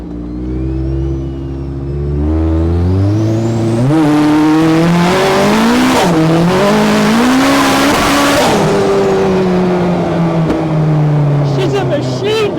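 A 550hp turbocharged Honda Civic Type R engine in a buggy revs hard and climbs through rising and falling pitch sweeps, very loud and close, with turbo whine and tire noise, continuous throughout.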